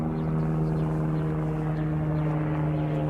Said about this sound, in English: There's a helicopter circling this now.